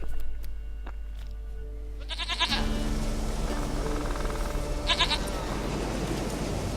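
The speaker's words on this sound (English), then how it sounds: "Goat of mine, dearest, sweetest goat." Goats bleat repeatedly in a video game farm setting, with several short calls rising over a steady ambient bed, fairly close and clear without talk.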